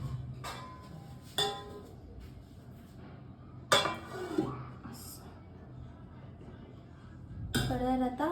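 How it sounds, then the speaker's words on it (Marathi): A metal lid is set on a kadhai while steaming modak, giving a few scattered sharp clinks and clanks, fairly faint, in a quiet kitchen. "याच्यावर ठेवायचं आपल्याला झाकण."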